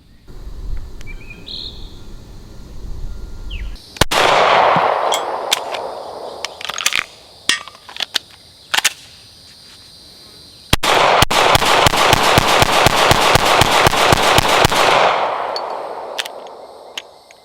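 An FN 509 pistol fires after being frozen. Sharp, loud cracks come first in a scattered string, then in a rapid, evenly spaced run of close shots with ringing echoes, and no voices are heard between them.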